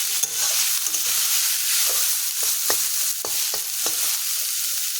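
Maan kochu frying in a pan, a continuous sizzle broken by several sharp scrapes and knocks of a stirring utensil at irregular intervals, close and alone.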